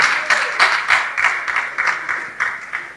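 Audience applause welcoming a guest columnist onto a French-language talk show set, steady clapping with rhythmic swells lasting throughout, fairly close and with no voices over it.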